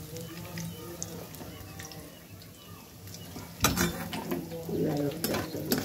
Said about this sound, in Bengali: আলুর চপ ভাজতেছি, ইফতারের সময় হয়েও গেছে